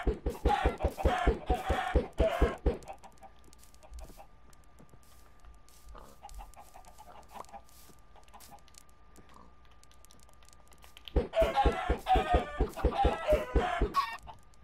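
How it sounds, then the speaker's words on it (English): Chickens clucking in Minecraft, including a baby chicken, with bursts of rapid, close clucks at the start and end and a quiet stretch in between. "Well, I got a baby chicken."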